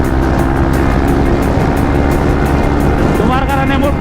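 A KTM Duke 250 motorcycle with an underseat exhaust drones loudly and steadily at high revs, close and continuous, with another engine's whine rising near the end.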